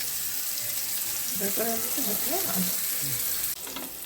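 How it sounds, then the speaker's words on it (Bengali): Kankrel frying in hot oil in a pan, one side cooked at a time, a steady broadband sizzle running throughout with a few brief tonal clinks and scrapes partway through. "এক পিঠটা বেশি করে আর এক পিঠটা একটু অল্প করে ভাজবো"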